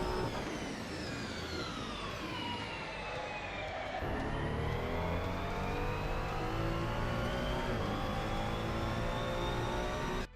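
A Ferrari 296 GT3 racing car in Assetto Corsa at the Zandvoort circuit: loud, continuous engine howl, with a sharp pitch drop on a downshift under hard braking, then the revs climb again steadily.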